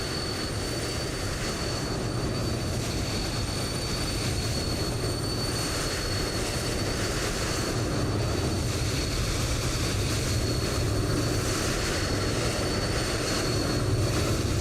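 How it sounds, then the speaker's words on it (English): Piaggio propeller aircraft in Microsoft Flight Simulator 2020, heard as a steady, continuous propeller drone with broadband engine rumble holding at a constant level throughout, with no voices over it. "You can hear the Piaggio."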